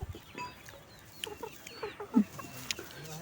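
A hen clucks softly a few times in short, scattered bursts, faint and fairly close in an otherwise quiet yard.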